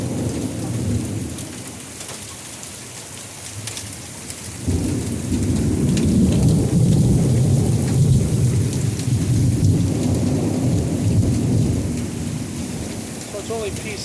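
A heavy thunderstorm with pea-sized hail in the Texas Hill Country. Steady loud rain roars throughout and deep thunder rumbles in the background, swelling stronger after the first few seconds.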